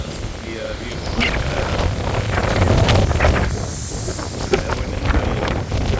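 Hurricane Helene wind in southwest Cape Coral, Florida, blowing outdoors by a seawall, loud gusting buffets rising and falling across the microphone, with a person speaking briefly beneath it.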